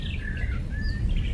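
Javan pied starling giving soft, whistle-like notes, a few thin rising and sliding whistles over a steady low background rumble, moderately faint.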